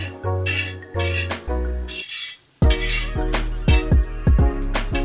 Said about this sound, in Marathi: मस्तपैकी मसाल्यामध्ये आता पुन्हा एकदा आपल्याला मिक्स करून घ्यायचे आहेत कोलंबीला